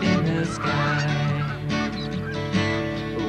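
Geese honking as they fly past, a loud chorus of overlapping nasal honks close by, repeated in uneven bursts with no talk.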